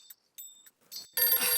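A telephone rings with brief chirping electronic bursts separated by gaps, followed by a louder, dense buzzing ring near the end, with no talking.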